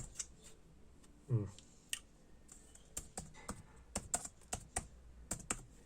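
Quiet, uneven tapping of keys on a computer keyboard, in short bursts with a soft thump partway through.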